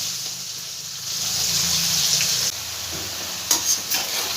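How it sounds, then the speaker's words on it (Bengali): Potato pieces with a little turmeric frying in a pan for a potato and pointed gourd curry give a steady close sizzle, with a few louder stirring scrapes near the end. "দিয়ে আলুটাকে এবার খুব ভালো করে আমি একটু লাল লাল করে ভেজে নেব।"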